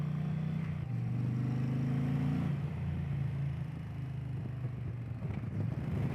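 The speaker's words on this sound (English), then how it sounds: "Engine braking on the 108 PowerPlus, and downshifting is crisp, clean, and wonderful." A 2024 Indian Pursuit motorcycle with the 108 PowerPlus engine, heard under engine braking and downshifts: a steady engine drone steps down in pitch as the revs fall, with wind noise over the microphone.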